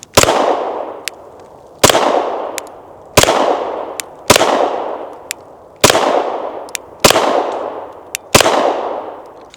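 Rost Martin RM1C pistol fired in a steady string of seven loud, sharp shots roughly 1.3 seconds apart, each crack ringing out with a short echoing tail and faint metallic clinks between.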